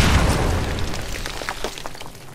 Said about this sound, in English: No, stop exploding. Stop shooting me, please. They have a lot of artillery.